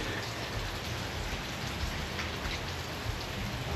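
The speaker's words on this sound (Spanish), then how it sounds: "llueve mucho" Heavy rain pours steadily and densely, a continuous close hiss of drops on surfaces with no talking.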